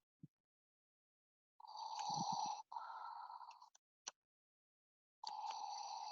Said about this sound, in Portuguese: Vocês conseguem ouvir Darth Vader respirando profundamente, não é?